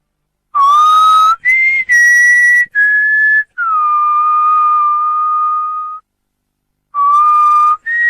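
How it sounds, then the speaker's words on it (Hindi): Someone whistles a short melodic tune, clear held notes with gliding pitch, loud and close, pausing briefly before a final phrase. "इस तरह की सीटी कोई औरत भी बजा सकती है।"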